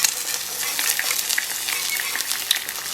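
Metal utensil scraping across a well-seasoned cast iron pan while food fries, a steady broadband sizzle with scattered scraping strokes throughout, fairly close and with no talking.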